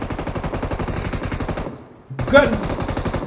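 Rapid automatic gunfire from the mobile battle royale game BGMI, loud and continuous, cuts out briefly before a heavier burst of shots resumes the dense rattling.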